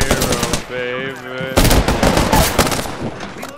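Rapid automatic gunfire from the video game Apex Legends rattles loudly in close bursts, with a brief pause and game tones in between before a heavier volley, as a player's voice speaks over the shooting.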